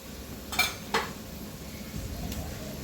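Potato-spinach sabji is stir-fried in a pan with turmeric, chili and masala: two quick scraping clinks of the spatula, then a soft, faint sizzle.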